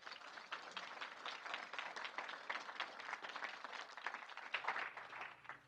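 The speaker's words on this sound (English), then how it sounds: "So please, please share a warm round of applause" An audience claps and applauds steadily, a dense wash of many hands heard from a distance, fairly soft and sustained.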